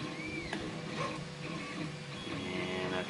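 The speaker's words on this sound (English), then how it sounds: "that's my 3D printer making all the noise in the background" A 3D printer runs steadily in the background, its stepper motors whining and chirping in shifting tones over a constant mechanical hum with no talk.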